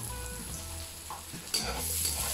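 Cocido ingredients frying in olive oil over lowered heat, a soft continuous sizzle and crackle with a few clinks of stirring, close and fairly quiet, no talking.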